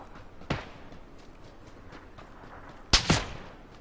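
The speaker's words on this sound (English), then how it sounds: "Oh, he's shooting at me too." Gunfire from an enemy player in the PlayerUnknown's Battlegrounds video game, two sharp separate shots a couple of seconds apart, the second followed by a quick echoing crack, standing out from a quiet background.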